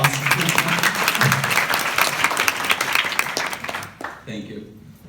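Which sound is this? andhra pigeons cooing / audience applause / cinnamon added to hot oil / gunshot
audience applause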